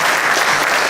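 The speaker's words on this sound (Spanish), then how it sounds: "Denle un aplauso a usted que está al lado a que lee." A church congregation breaks into loud, close, dense clapping during a Sunday sermon, a brief burst of applause with no voices over it.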